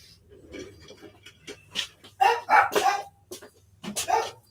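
A dog barks in a short, irregular series of loud, close barks, some clipped and some drawn out, against a low steady hum in an indoor room.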